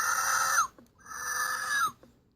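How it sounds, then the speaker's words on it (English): Hasbro Jurassic Park III Alpha Pteranodon toy gives two shrill electronic screeches, each held for about half a second to a second and then dropping off sharply, thin and tinny from a small speaker with a short gap between them. "You press it and he starts screeching."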